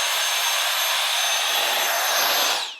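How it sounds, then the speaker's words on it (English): An Easywox handheld blower runs at full power, blowing bugs and spider webs off a porch; a loud, close, steady hissing whoosh of rushing air that winds down at the very end, with no talk. "when you want to blow the bugs or the spider webs or anything off your porch, it's really easy to do with this"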